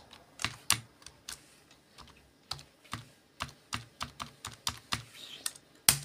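Keys clatter on a computer keyboard as a password is typed, a string of sharp, separate clicks in an uneven rhythm, close and fairly quiet, with no talking.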